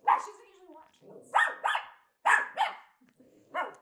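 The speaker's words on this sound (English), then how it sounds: "I'm going to see if I can get Jade to bark on cue" A dog gives a series of sharp barks on cue, about five close, loud bursts in an uneven rhythm, separated by short quiet gaps.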